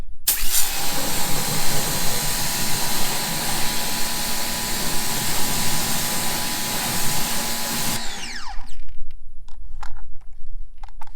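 A pressure washer runs loud and steady with a hissing spray while rinsing a car through an MTM Hydro SG35 snub gun, then cuts off sharply, leaving faint dripping and small knocks.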